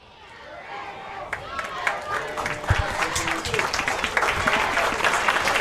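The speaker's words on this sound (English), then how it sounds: "Take a look at that as the crowd is standing and honoring the military." At a high school football game, a standing crowd swells into applause and scattered cheers honoring the military, the clapping building steadily louder and denser from a quiet start while a voice talks over it.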